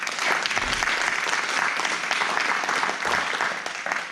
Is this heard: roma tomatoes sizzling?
no